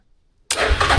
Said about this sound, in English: make sure this thing's still firing up good. Turn the fuel on, choke on. And I kind of want to hear the new exhaust system I just put in